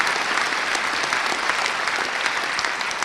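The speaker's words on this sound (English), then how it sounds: "Briarpatch deserves another round of applause for filling this very, very large room" A large audience filling a big lecture hall applauds, a loud, dense and steady roar of clapping with no speech over it.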